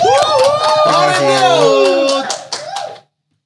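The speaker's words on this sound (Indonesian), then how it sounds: "Berikan tepuk tangan sekali lagi untuk Godfrey" Studio audience clapping for a guest at the close of a podcast, brisk and fairly close, mixed with whoops and voices over about three seconds before cutting off.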